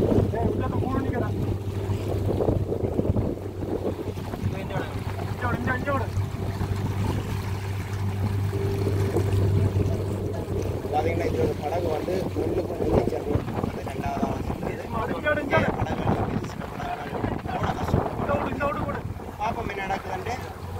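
A motorboat engine drones steadily on the sea off Araly, Jaffna, under gusty wind noise, with people talking over it throughout.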